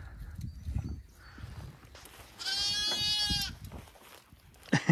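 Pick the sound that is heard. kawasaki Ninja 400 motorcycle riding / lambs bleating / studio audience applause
lambs bleating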